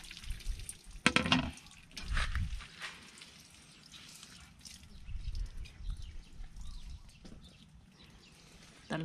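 Water pours and splashes through a screen strainer while draining freshly cleaned fish for kilawin, with irregular bursts of sloshing and dripping followed by quieter trickles.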